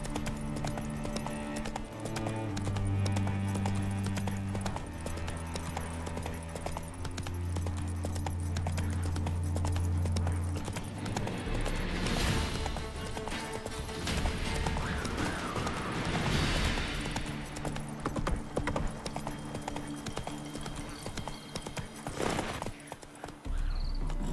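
Steady clip-clop of the horse Roach's hooves in The Witcher 3: Hearts of Stone, a continuous galloping rhythm over a low in-game background drone, up close and without speech.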